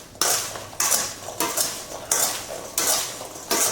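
A mixing spoon stirs apples coated in cinnamon, sugar and spices in a cup or mason jar, producing rhythmic scraping clinks roughly every half second, close and clear with no talk.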